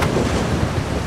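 Rough ocean surf and gusting wind in The Last of Us Part 2, a steady, loud wash of breaking waves with wind buffeting throughout, no speech.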